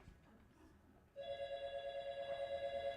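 A telephone starts ringing after a moment of quiet room noise during a stage comedy, a loud, steady electronic trill pulsing rapidly and continuing to the end.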